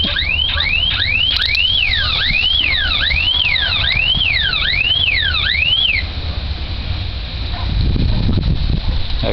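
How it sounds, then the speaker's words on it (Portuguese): A car alarm wails loudly and up close in rapid, repeating rising-and-falling sweeps for about six seconds, then cuts off, leaving rustling outdoor noise and a low rumble. "ele não sabe desligar o alarme ainda"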